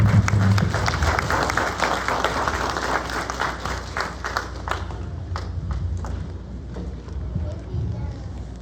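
A church congregation at an anniversary service applauds its pastor, steady dense clapping from many hands that gradually thins and fades, with voices speaking over it.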